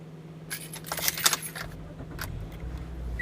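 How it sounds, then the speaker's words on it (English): Key inserted into the ignition of a 2014/2015 Toyota Corolla S Plus, a short metallic jingle and rattle of keys for about a second, close by, followed by quiet cabin hum. "just insert the key into the key ignition and turn it to start"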